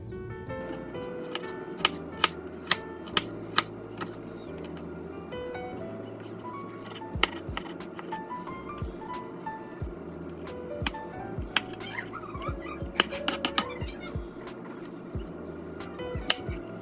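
A knife dices food into small cubes on a board, giving a run of sharp, close taps at an irregular rhythm over quiet background hum.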